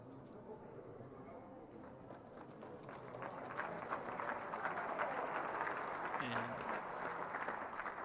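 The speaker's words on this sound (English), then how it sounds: "by the sounds of the round of applause, that was a good start" Crowd clapping at an outdoor lawn bowls finals match for ladies pairs in Wellington, faint and distant, building into a steady round of applause about halfway through.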